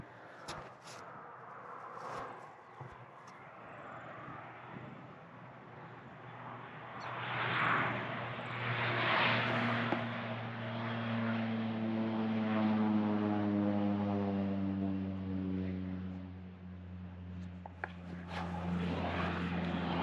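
A crop duster airplane in springtime Australian countryside flies overhead, its propeller drone swelling from faint to loud and steady, with the pitch sliding downward as it passes, and some faint outdoor background noise.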